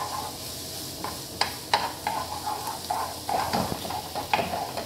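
Garlic toasting in oil in a pan for sweet-and-sour chicken sauce, a soft continuous sizzle broken by several sharp stirring clinks and scrapes, close up with no voices.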